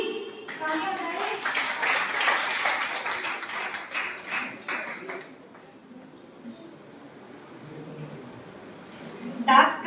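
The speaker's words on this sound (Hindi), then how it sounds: "तालियां बजाएं।" Clapping from a crowd at a student welcome party in a college, a burst of hands in the first half fading out, with voices and background chatter continuing after.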